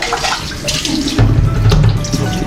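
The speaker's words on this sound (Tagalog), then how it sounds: "Shower yan, may banyo shower yan." Water pouring steadily from a shower in a bathroom, a continuous broadband hiss that grows louder and heavier partway through, heard alone up close.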